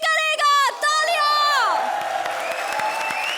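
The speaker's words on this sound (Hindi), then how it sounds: "तालियां" Audience applause and cheering at a televised comedy show stage, dense and steady throughout, with a bright descending musical sting ringing over the opening half.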